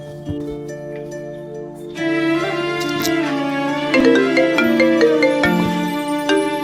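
A mobile phone rings with a bright melodic ringtone, its tones swelling louder after the opening seconds and playing on steadily with no talk over it.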